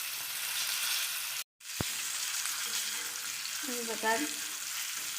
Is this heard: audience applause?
no